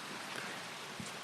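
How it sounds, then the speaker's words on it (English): Rain starts falling outdoors, a steady, even hiss of drops that fills the whole moment without pause or voices. "It just started raining."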